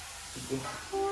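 Onions and tomatoes sautéing in a pan for Indian-style egg gravy give off a steady, moderately loud sizzling hiss, with a brief swell partway through.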